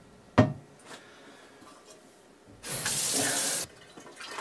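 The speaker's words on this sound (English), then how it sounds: "We'll go ahead and rinse the pan out with some cool water and dump that in also." A brief knock, then a quiet pause before a steady rush of cool tap water runs into a pan for about a second and stops, while homebrewing beer.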